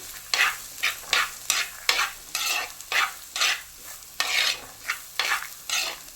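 A spoon scrapes and stirs carrots and onion frying in a pan, a regular rhythm of about a dozen loud scraping strokes over a soft sizzle, with no one talking.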